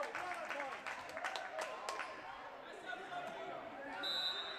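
Home Spartans fans at a Mountain View Spartans vs Palo Alto Vikings volleyball match cheer and applaud after a long rally, a steady roar of clapping and shouts filling the gym with a few sharp sounds in the mix.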